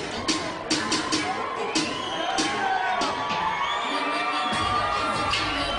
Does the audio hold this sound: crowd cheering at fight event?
yes